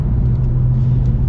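A Ford Mustang GT500 engine blips for a rev match, a steady loud low rumble with a strong droning tone held throughout, close by and with no voices.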